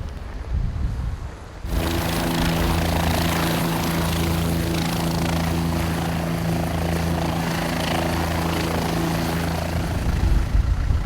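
A propeller aircraft's engine drones steadily on a runway during an Arctic expedition to the North Pole, loud and close, with a constant low hum and rotor-like pulsing that holds throughout after a brief quieter start.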